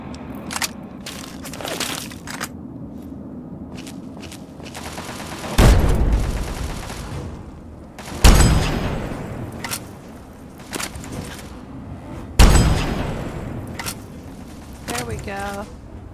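Gunfire in Fallout 3: several loud, sharp shots at spaced intervals, with a quick run of smaller cracks and mechanical clicks between them over a steady game background.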